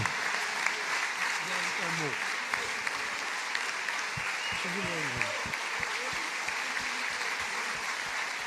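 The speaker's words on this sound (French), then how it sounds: "Regardez cette standing ovation" Standing ovation for centenarian Achille Muller, steady dense applause from a large crowd throughout, with a few voices and cheers rising over the clapping.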